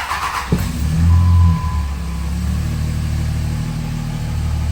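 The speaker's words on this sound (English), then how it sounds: "Even with the truck running, I won't talk a minute while it's running" A Cummins diesel truck engine runs in a garage. After a sharp start it gives a short rev, then settles into a steady, close idle rumble with no talking.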